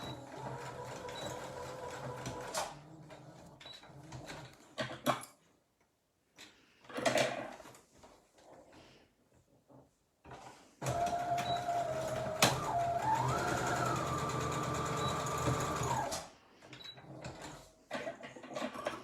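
A sewing machine stitching small seams on a plain cotton Easter bunny bag, whirring in short bursts with quiet pauses between them, then one longer continuous run, close and moderately loud with no talking.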